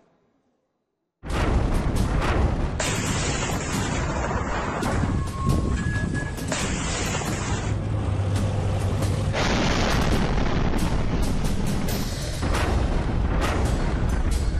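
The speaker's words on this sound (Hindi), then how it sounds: "ये बड़ा धमाका है और ये आर्टिलरी या रॉकेट फायर नहीं है, ये मिसाइल फायर है" A deep, sustained roar of heavy missile blasts and rumbling fills the whole stretch after a brief quiet start, loud and continuous with no voices, during the Russia-Ukraine war.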